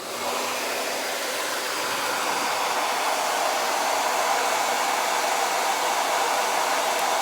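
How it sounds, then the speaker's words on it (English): A hair dryer runs steadily on freshly painted lightweight trays, a loud, constant airy roar close by that starts abruptly and holds unchanged throughout with no talk. "Let me dry this."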